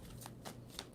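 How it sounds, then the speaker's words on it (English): A tarot deck is shuffled softly, giving three quick papery riffles close to the mic at low volume, with no talking. "I can never get over the sound of shuffling."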